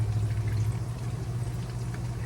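A breaded mac and cheese bite fries in hot grease, giving a steady, quiet bubbling sizzle with a low hum underneath throughout.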